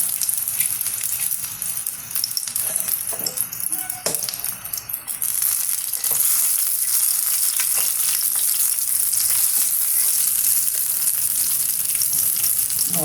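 Onions fry in a pan of hot oil for a Kerala-style green banana stem theeyal, giving a steady loud sizzle and crackle throughout, with a few soft clinks and stirring scrapes near the start.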